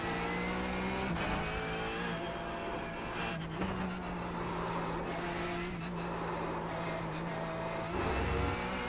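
A Porsche Cup race car on the combined Nürburgring layout in iRacing, its engine a loud continuous drone heard from inside the car, with pitch shifts and brief breaks at gear changes.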